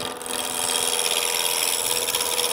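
A Record roughing gouge cutting wood spinning on a lathe, a loud, continuous rasping shear with a steady whirring drone underneath, close and without talk.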